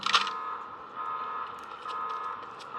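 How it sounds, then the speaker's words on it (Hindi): An alarm blares in the video game Project IGI: a steady, sustained electronic tone holding throughout, with a short harsh burst at the start, and no talking. "जैसे ये अलार्म बजा है"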